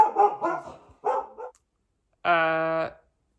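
A dog barks in a rapid burst of sharp, close barks, then a brief pause and another pair, followed by a longer drawn-out whining howl.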